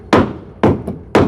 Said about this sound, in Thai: ต้องตอกก่อน